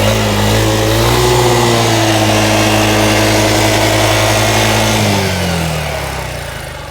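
Yamaha XMAX 250cc scooter engine runs loud and close, its pitch rising and falling through revs before dropping back and fading toward the end.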